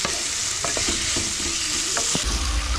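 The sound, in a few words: onions being sautéed and stirred in pan with salt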